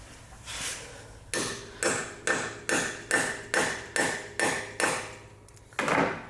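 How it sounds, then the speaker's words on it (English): Hammer tapping a tool, an E-Z out extractor, to seat it: a short lead-in tap, then eight sharp, evenly spaced metallic strikes close up, and one last hit after a pause. "tap it with a hammer to kind of get it to seat in there"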